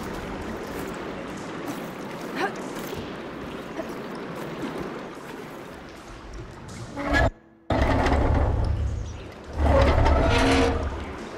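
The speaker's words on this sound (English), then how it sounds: "Aloy, I can hear water in the room again." Water rushing into a room in the video game Horizon Forbidden West, a steady gushing flow with a brief silent gap, then a louder surge of running water, with voices heard over part of it.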